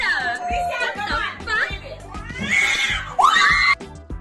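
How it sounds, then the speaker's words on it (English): An angry cat refusing to let a woman sit on a bed yowls and caterwauls in rising, wavering cries close by, mixed with people's voices and excited chatter. "Angry cat not allowing lady to sit on bed."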